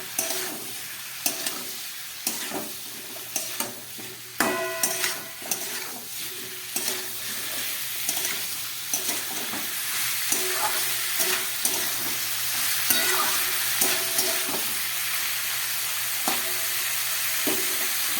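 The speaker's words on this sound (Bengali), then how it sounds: "এবারে আমি এই বয়েল করা বিনস আর ব্রকলিগুলো দিয়ে দিলাম। দিয়ে একটু ভালো করে এবারে নেড়ে দেবো।" Boiled green beans and broccoli stirred in a sizzling pan for a Bengali broccoli-bean curry, with close, steady frying hiss and repeated scraping clicks of the spoon throughout, no talk.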